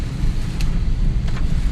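Heavy rain and road roar surround a car driving on a flooded expressway between Meerut and Delhi, a dense, loud wash of low rumble and spray with a couple of brief hissing splashes.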